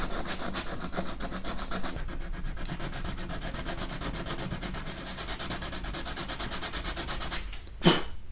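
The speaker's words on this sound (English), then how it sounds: "We're going to start sanding it down with some 80 grit sandpaper." Rapid rhythmic rasping of 80-grit sandpaper scraping back and forth over a car's metal quarter panel, continuous and close, ending with a short sharp scrape.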